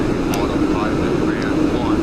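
An airplane engine in the Microsoft Flight Simulator X video game, flying a route from Columbus, Ohio to Atlanta, Georgia: a steady, even cabin-level drone throughout, with a voice faintly audible over it.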